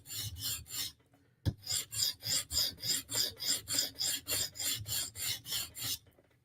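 A Spartan Harsey knife is sharpened by hand, its blade drawn over the stone in about seventeen steady, evenly spaced rasping strokes after a brief pause, close and clear with no talk.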